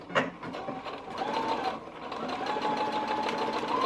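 Domestic sewing machine stitching a buttonhole in a linen skirt, a fast close whirring hum of rapid needle strokes running continuously after a brief start, with no voices.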